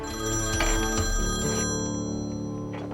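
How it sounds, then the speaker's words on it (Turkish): Telephone ringing with an incoming call, a steady electronic ringtone tone sounding continuously and fairly loud for about three seconds with no voices. "Nail Aray."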